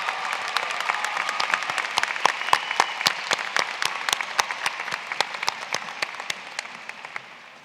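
Graduation crowd at Meadowbrook High School applauds an award recipient, a loud, dense burst of many hands with sharp individual claps standing out, tapering slightly toward the end.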